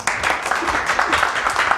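An audience applauds after a lecture on school textbooks, dense and steady clapping that carries on without a break through the short stretch.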